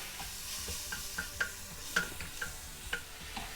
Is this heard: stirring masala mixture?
yes